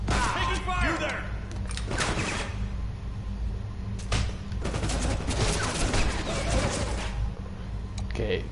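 Gunfire in the stealth video game CounterSpy, bursts of shots and impacts over a constant low game hum, with someone talking across the action.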